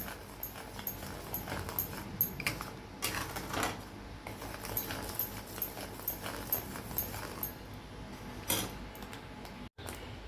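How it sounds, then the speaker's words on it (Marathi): Thick gram flour batter for pithla bubbling on the stove, with quiet irregular pops and sputters scattered over a soft background hiss. "चांगले त्याला उकळी फुटले चटचट आवाज येतोय त्याचा"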